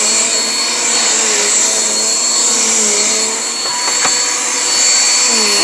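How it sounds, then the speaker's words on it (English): A household vacuum cleaner runs steadily and loudly up close during home cleaning, a continuous whining drone with a brief knock partway through and no speech. "In order to vacuum right, yes, you have to move stuff around."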